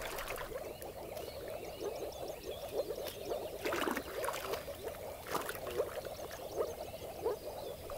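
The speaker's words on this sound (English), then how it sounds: "Luckily, moor frogs are still common on the Elbe." Moor frogs call in a dense, continuous chorus of soft, bubbling croaks at a pond beside the Elbe river, many overlapping voices close and steady throughout.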